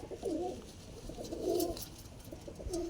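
Pigeons cooing close by, three soft, low, rolling coos spaced about a second apart with quiet gaps between them.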